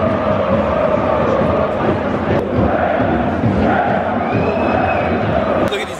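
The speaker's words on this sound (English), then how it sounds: "Look at these guys chanting." Soccer fans chanting at a German derby match: a loud, continuous roar of massed voices chanting in the stadium, dense and sustained throughout.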